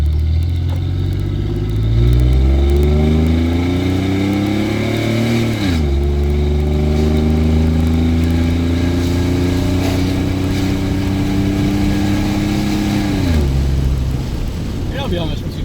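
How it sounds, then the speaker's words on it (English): A 2004 Chevrolet Silverado pickup accelerating on a road, its engine rising in pitch through gear changes with two clear shift drops, loud and steady throughout, with someone talking over it. "Doing that a little acceleration on this road."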